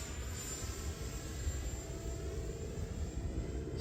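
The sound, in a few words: 3D printed PLA Viggen 50mm EDF RC jet flying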